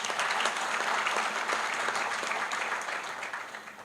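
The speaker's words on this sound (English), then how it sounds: "Did I hear a round of applause?" An audience applauds steadily through a speech event at the Zimbabwe–South Africa bi-national commission, a dense, sustained round of clapping that holds loud before tapering slightly at the end.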